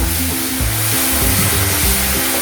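Poppy seeds fry in hot oil in a home kitchen, giving a steady, dense sizzle with a faint, wavering low hum beneath it.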